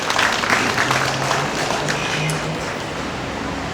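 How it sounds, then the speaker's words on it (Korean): Applause from an audience at a memorial ceremony for COVID and vaccine victims welcomes a pastor to the stage. It comes as a steady, dense wash of clapping that carries through the whole stretch without fading. "여러분 따뜻한 박수로 환영해 주시기 바랍니다."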